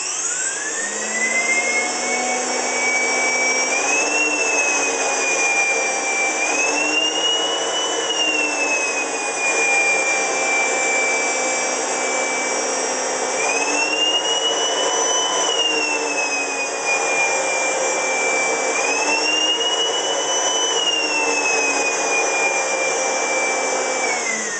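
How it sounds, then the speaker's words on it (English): A vacuum cleaner powered through a home-built electrical switching unit at 1 kilowatt, running loud and steady with a whining motor drone that rises and dips in pitch every few seconds, with no talk over it. "the vacuum cleaner starts up."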